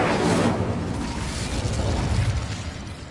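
Fiery Incendio spell blasts in a Harry Potter-style video game, a loud continuous roaring burst that swells at the start and rumbles on without pause, no voices.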